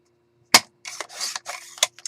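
Scissors cutting white paper embellishments and ephemera, a sharp snip followed by several short crisp rasping cuts close up in a quiet room, no talk.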